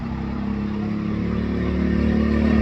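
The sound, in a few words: Chinese kids 125 ATV converted to Predator 212 engine, revving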